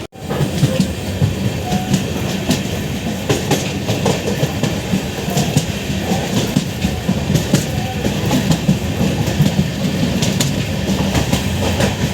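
Republic Day special passenger train from Chennai Egmore toward Kanyakumari, heard from on board as a steady, loud rumble with rhythmic clickety-clack of wheels over rail joints throughout, with no talk.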